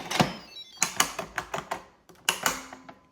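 A lid clicked and secured onto a pressure cooker, heard as a series of sharp close clacks and knocks in irregular bursts with short pauses between.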